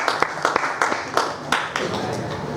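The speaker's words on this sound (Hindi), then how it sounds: "मैं चाहूँगी एक बार फिर से जोरदार तालियां हो जाएं" A Hindi event audience applauds loudly at close range, with dense clapping and sharp individual claps standing out through the whole stretch, alongside some voices.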